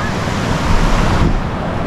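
Sea waves wash onto the shore at Oceana sea beach in Digha. The surf is a loud, continuous roar with wind buffeting the microphone, and no one is talking.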